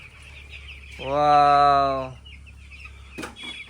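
Chickens cluck and call inside a large poultry farm, one loud drawn-out call standing out over a low background hum, with a brief spoken word.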